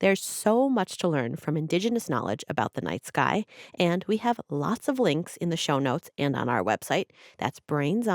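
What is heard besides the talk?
No everyday noise stands out behind the speech.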